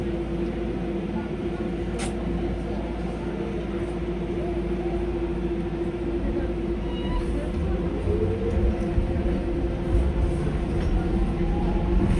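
A steady low rumble of a metro train arriving in Stratford, London fills the scene, building slightly toward the end, with a faint hum and occasional distant clanks.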